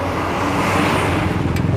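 Cars and other vehicles drive along a damaged road, a steady loud roar of engines and tyres from nearby traffic with no talking.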